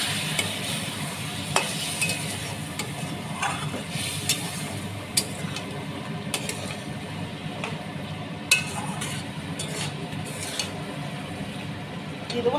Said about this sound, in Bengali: মশলার মধ্যে আলুগুলো নাড়াচাড়া করে নেব আলুগুলো সেদ্ধ হয়ে গেছে ভাজতে ভাজতে